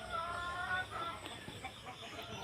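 Chickens clucking on a pig and poultry farm in Darrang, Assam, where goats are also kept; steady overlapping bird calls at moderate distance, fairly continuous over a constant background.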